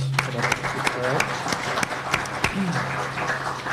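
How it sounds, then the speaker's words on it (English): Luncheon audience at a Chautauqua chamber event with elected officials giving a round of applause, scattered claps and a few sharp hand strikes over a steady room murmur, with voices mixed in. "Give a wave and a round of applause."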